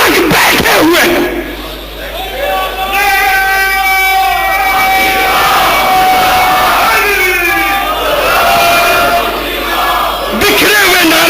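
A large crowd at a religious gathering shouts slogans in loud, ragged unison, with voices rising and falling across several long swells, close and forceful.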